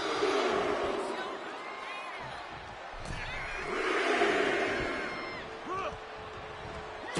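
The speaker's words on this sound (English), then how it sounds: "The crowd is fired up." Arena crowd in a wrestling video game roars and cheers continuously, swelling and dipping with sharp whoops and shouts rising out of the steady din.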